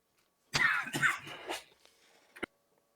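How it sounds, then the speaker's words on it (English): A few harsh coughs in quick succession, close and fairly loud, followed by a short sharp throat sound after a pause. "I had to cough. I hit the cough button."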